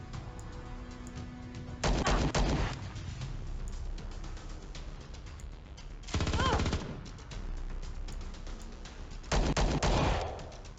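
Pistol shots in Star Traders: Frontiers combat: three separate short bursts of gunfire spaced a few seconds apart, loud against a steady game background hum.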